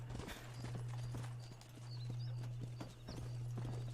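Steady clip-clop of horse hooves at a galloping pace in the video game Red Dead Redemption, close and continuous, with a constant low hum and occasional faint chirps in the background.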